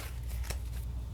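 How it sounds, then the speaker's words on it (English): Tarot cards are shuffled and laid out on a table, a soft papery riffle with quick flicking snaps and one sharper slap of a card set down, close by and without speech. "Let me get all your cards out."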